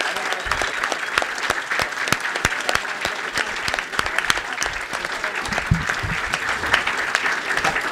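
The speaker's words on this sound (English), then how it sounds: "So big round of applause to them." Steady, moderately loud crowd applause from an audience at an eco-socialism conference closing plenary, continuous dense clapping with a few sharper nearby claps throughout.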